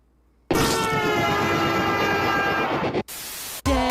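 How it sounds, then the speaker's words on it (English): A train rumbles past at close range, a loud steady roar with rhythmic clatter that cuts off abruptly near three seconds, followed by a quieter wash and a sudden renewed burst of noise. "I like trains."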